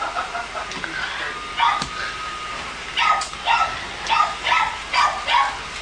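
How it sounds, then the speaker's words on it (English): A cockapoo barks and yips outdoors while chasing a remote control car, a series of short repeated barks coming in quick bursts at moderate distance, with no talk over them. "Roth's got the remote control car out there and Katie's chasing it barking."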